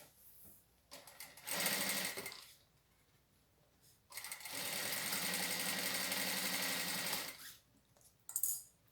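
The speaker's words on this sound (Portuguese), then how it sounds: "E vamos fazer a costura de segurança." A sewing machine stitching a safety seam on a fabric toilet paper holder, two bursts of rapid, steady mechanical whirring separated by quiet pauses, the second burst longer, close by, with a brief knock at the end.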